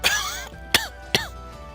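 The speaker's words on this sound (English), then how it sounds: "I know, it's pretty fake coughing." Two short, sharp coughs spaced about half a second apart, following a brief burst of noisy sound, clearly staged and artificial-sounding, from the video game Wild Arms Alter Code F.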